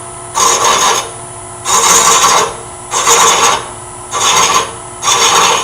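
A thread chaser rasps as it cuts threads into wood spinning on a lathe, giving five loud, steady scraping passes of about a second each, separated by short quieter gaps in an even rhythm.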